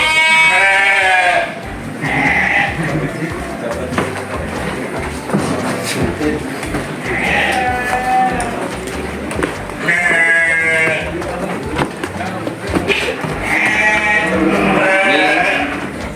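Domba gembel sheep bleat repeatedly in a raised wooden stall pen on a farm, loud and close, with several overlapping calls and people talking throughout.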